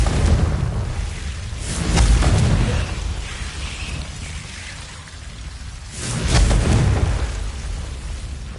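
Confringo blasting spells go off in Hogwarts Legacy: two heavy, booming explosions with rumbling tails, one about two seconds in and another near six and a half seconds, over quieter game ambience.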